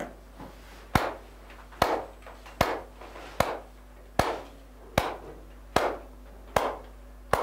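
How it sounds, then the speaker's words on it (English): Hands clap a steady rhythm of sharp single claps, about one every 0.8 seconds, close and distinct with short decays between them during a grade 4 music lesson. "We can make a rhythm by clapping."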